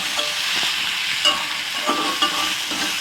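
Taro stolons stirred with onion in a hot pan for a prawn and kochur loti dish, a dense close sizzle broken by several light spatula scrapes and clacks.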